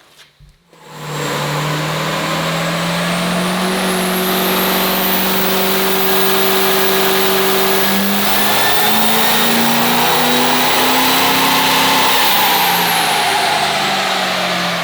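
A twin-turbo Duramax diesel pickup with a VP44 injection pump and Allison transmission roars steadily on a dyno, a loud continuous engine note climbing in pitch through a long pull with turbo whine above, close and uninterrupted.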